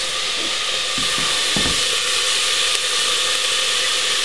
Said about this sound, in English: We're going to add the onion. We're going to add the pepper and the garlic.